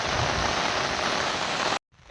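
Steady light rain pattering on surfaces outdoors in a rural monsoon setting, a dense even hiss that runs continuously and then cuts off abruptly near the end, with no talk over it.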